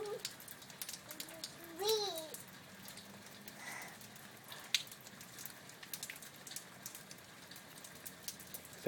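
Rain falling and water dripping from house eaves, a soft patter of drops under a child's babbling and an adult's voice, fairly quiet throughout.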